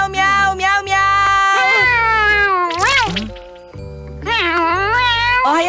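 A cartoon cat meowing, voiced by a person imitating it: a run of several drawn-out, tonal meows with rising and falling pitch, loud and close, filling most of the clip with short pauses between calls.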